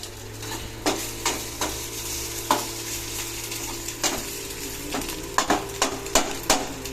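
Egg noodles stir-fried in a hot pan, with a steady sizzle under repeated sharp scraping and clanking strokes of a utensil against the metal, close and moderately loud.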